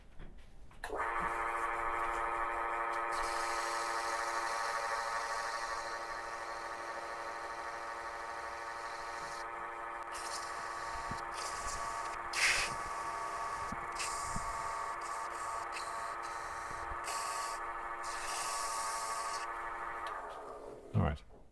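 A wooden workpiece spins on a lathe with a steady, humming whine as an ebony stick presses against it to burn a line, the friction adding a continuous rasping hiss with a few sharper bursts.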